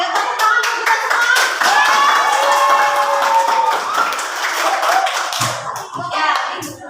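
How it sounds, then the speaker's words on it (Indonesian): Listeners at a school coaching session clap their hands together, a run of sharp, fairly close claps going on for several seconds while voices carry on beneath and around them. "Ya, tepuk tangan untuk kita semua."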